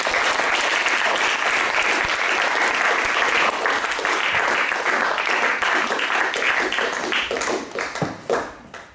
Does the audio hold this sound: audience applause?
yes